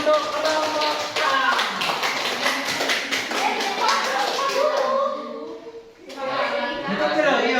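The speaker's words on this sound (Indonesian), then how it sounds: "Tepuk tangan untuk kelompok A." A classroom in an Indonesian physics teacher-training session applauds group A, with steady, dense clapping from many hands for several seconds, a brief lull, then more clapping mixed with voices.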